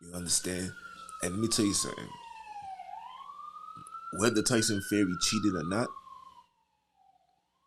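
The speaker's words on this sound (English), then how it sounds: "pardon, that's the ambulance" An ambulance siren wails as it passes outside, a continuous rising and falling tone that rises again and then fades away at the end, heard beneath someone talking indoors.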